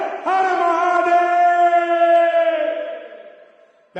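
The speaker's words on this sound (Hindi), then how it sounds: "एक लंबा जयकारा लगाएं। हर हर महादेव।" A crowd at an outdoor political stage event holds one long, loud collective chant of Har Har Mahadev, sustained for about three seconds before it fades out, ending with a brief new sound at the very end.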